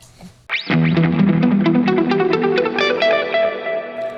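A guitar chord through a hall reverb pedal rings out, followed by picked notes that bloom into a long, spacious hall reverb. Each note lingers and overlaps the next.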